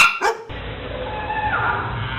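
A couple of quick, sharp barks from four large dogs at the start, then a muffled, noisy background with faint higher yelps, as a mother cat fights them off to protect her kitten.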